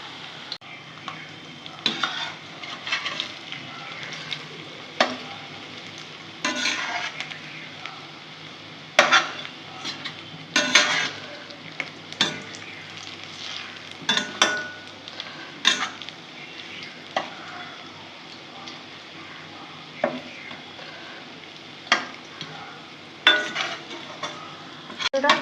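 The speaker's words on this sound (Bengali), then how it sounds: "আমি মুচমুচে করে বড়াগুলো এখন ভেজে নেবো" Jute leaf fritters fry until crispy in a pan, with a soft continuous sizzle broken by scattered sharp clinks and scrapes of a utensil against the pan, nearby and without speech.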